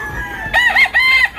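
A rooster crows loudly and close on a farm, a single drawn-out crow in two rising and falling parts against a quiet background.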